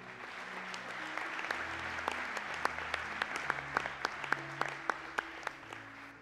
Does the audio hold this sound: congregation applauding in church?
yes